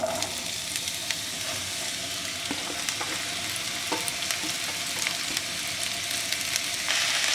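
Chopped onions sizzle steadily in hot coconut oil for a Kerala egg roast, a dense continuous frying hiss close by with occasional stirring clicks and scrapes, no voices.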